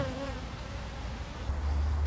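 Honeybees buzz steadily around a backyard hive in mid-July, a dense close hum with no talking, and a low rumble rises near the end.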